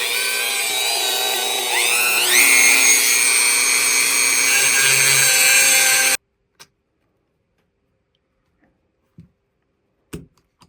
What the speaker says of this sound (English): we gotta grind the heads of them pins down